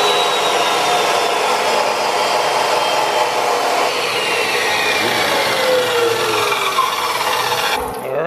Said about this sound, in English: Right now we're going to cut the pockets that hold the square tubing that support the